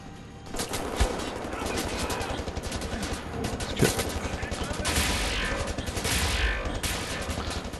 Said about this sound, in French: Ouais, non mais ça a tiré sur tout le monde là en fait.